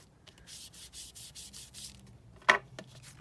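Ink being rubbed onto the back of a junk journal page with an applicator: a run of soft, rhythmic scrubbing strokes, close up, then a single sharper tap or knock.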